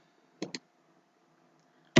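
Computer keyboard keys pressed in quick succession, two sharp close clicks followed after a pause by a third louder click, in a quiet room without speech.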